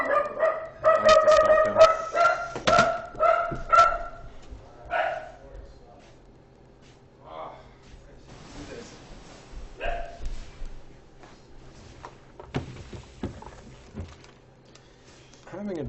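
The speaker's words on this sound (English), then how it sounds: "And what is my dog barking at?" A dog barks repeatedly in the same room, loud and close in the opening seconds, then more sporadic yips and barks, mixed with a man's speech during a Dota 2 match broadcast from The International.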